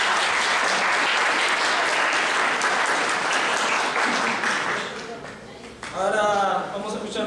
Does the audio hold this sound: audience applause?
yes